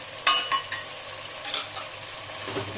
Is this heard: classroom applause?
no